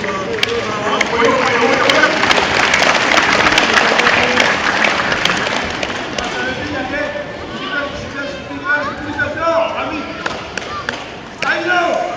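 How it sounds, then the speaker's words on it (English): A crowd claps in a broad burst of applause at an independence celebration, swelling for several seconds then thinning out, with voices and scattered sounds mixing in near the end. "give a big hand of applause"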